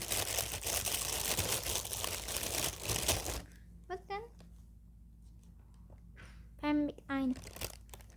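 A crinkly plastic wrapper is torn and crumpled open in loud, dense rustling for a few seconds, followed by a quiet room where someone speaks in short bursts.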